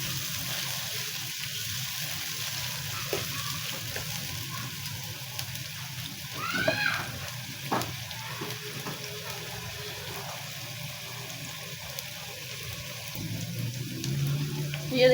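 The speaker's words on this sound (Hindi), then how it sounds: "अब इसको भून लेंगे अच्छी तरह से।" Ginger paste mixed with green chilies sizzles softly in a pan, a steady faint crackle with a few brief scraping stirs and no talking.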